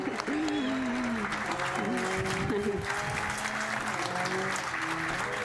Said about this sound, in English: I hope to give a warm applause to Anna Heifet.